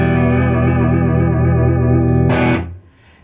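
An E minor guitar chord rings with a reverb effect, sustaining loud and full for over two seconds before a strum-like burst and a fading wash of room-like tail.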